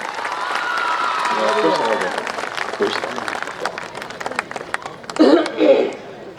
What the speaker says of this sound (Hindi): इस कृष्ण के लिए बहुत जोरदार तालियां हो जाए।